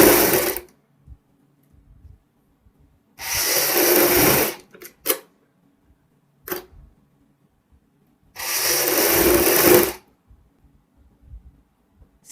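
A sewing machine stitches a V neckline in two sustained bursts of a few seconds each, separated by short clicks and quiet pauses, close and clear.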